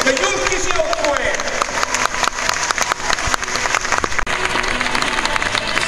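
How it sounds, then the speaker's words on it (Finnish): An audience at the 2016 Helsinki Horse Fair applauds the Helsinki mounted police team, with dense, continuous clapping from a large crowd, loud and sustained throughout. "Reippa suosionosoitukset vielä kaikille yleisöille."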